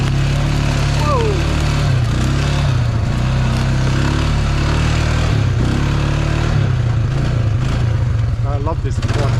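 A quad bike engine drones steadily at close range while being driven cross country, with a few shifts in pitch as it revs and eases; a voice talks intermittently over the running motor.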